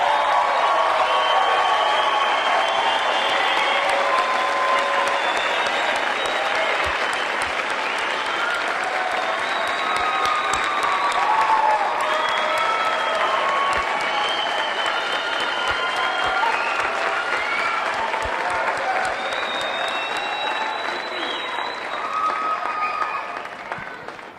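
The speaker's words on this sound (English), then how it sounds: "I think they deserve another round of applause and a lot more cheering." Sustained applause and cheering from a commencement audience at a Master of Arts graduation ceremony, a dense wash of clapping with scattered shouts and whoops, steady and loud throughout.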